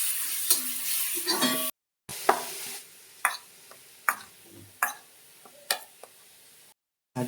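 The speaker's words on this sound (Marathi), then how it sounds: "हा मसाला चांगला परतून घ्यायचा" Vada pav masala sautéed in a pan, a quiet sizzle broken by a series of sharp spoon taps and scrapes against the pan, spaced roughly every second, with brief gaps of silence.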